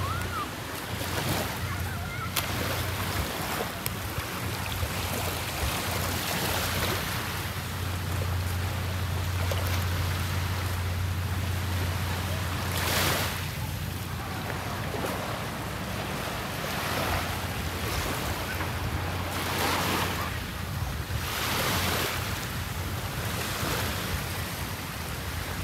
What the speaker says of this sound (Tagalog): kunting pasilip lang dito sa Boracay White Beach, January 3, 2024